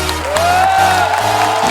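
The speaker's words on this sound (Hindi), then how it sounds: "आप सबकी जोरदार तालियों के बीच प्लीज वेलकम" A television comedy show's studio audience applauds and cheers as guests are welcomed onto the stage: a dense, steady wash of clapping mixed with crowd noise, loud and sustained throughout, with a bright sustained tone running over the top.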